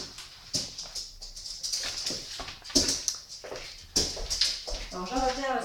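A dog whimpers and yips up close in a home, its brief whines mixed with a person talking in French over it.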